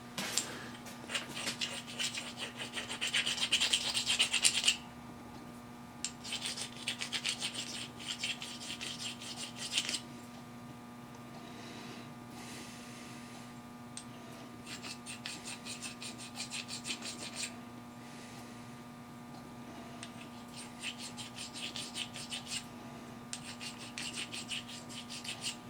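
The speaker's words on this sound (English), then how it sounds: "I'll have to run a file or a stone over it to get the burrs, get rid of the burrs" File or stone rubbed over a piston to take off burrs, short rasping strokes in bursts with pauses between them, close and fairly quiet, with a steady background hum.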